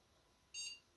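A computer motherboard gives a single short POST beep at startup, a clean electronic tone of about a quarter second over quiet background.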